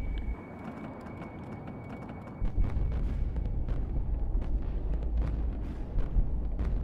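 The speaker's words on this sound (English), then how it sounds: "we're going to hear the explosions" A deep, rumbling bomb blast from the Vietnam War rolls in and lingers as a heavy low roar, with distant thumps and wind noise over the microphone.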